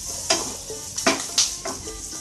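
Whole chilies popping and sizzling in hot oil in a pan, a close crackling hiss broken by several sharp pops.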